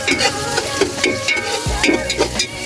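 Onions sautéing in a frying pan give a steady, close sizzle with repeated scraping and stirring strokes throughout, and no one talks.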